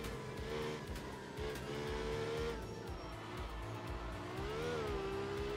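Toyota AE86 rally car in the game art of rally, its engine droning loudly and continuously with rising and falling revs, gear changes and a brief tire squeal on a mountain course.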